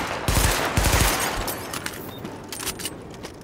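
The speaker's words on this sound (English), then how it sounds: "Weapon test initialized. Open fire at the highlighted targets." Weapon test gunfire in The Division: rapid bursts of loud shots in the first second, then scattered lighter shots and impacts trailing off.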